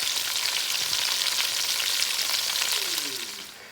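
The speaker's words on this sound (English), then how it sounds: "so we're gonna fry this up in batches" Chicken pieces for chicken cacciatore fry and brown in a pot with a loud, steady sizzle and crackle that eases off near the end.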